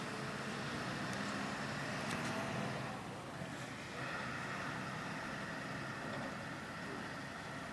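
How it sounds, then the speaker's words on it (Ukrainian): A car slowly pulls away, its engine a steady broadband rumble that holds through the clip and eases slightly midway, with no talk over it. "Зараз автівка потроху бачимо рухається. Вона від'їжджає просто."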